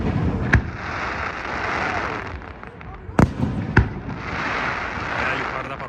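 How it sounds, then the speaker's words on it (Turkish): Large fireworks bursting high over a funfair at a German Volksfest opening display, heard as a few sharp, loud booms spaced apart over a steady crowd murmur and distant rumble, with people talking nearby. "Bayağı yukarıda patlıyor bunlar."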